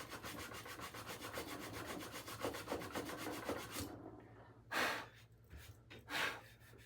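Steady back-and-forth rasping of sandpaper on the wooden stock of a Savage 64 rifle, repeated quick strokes for about four seconds, then a pause broken by two louder, isolated rubs.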